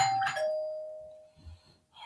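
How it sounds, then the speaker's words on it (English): A home doorbell chimes once, a bright electronic ding with a long, fading sustain in an otherwise quiet room, followed by faint low rustling. "is that your doorbell?"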